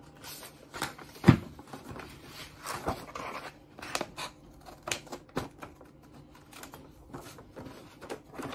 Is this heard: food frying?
no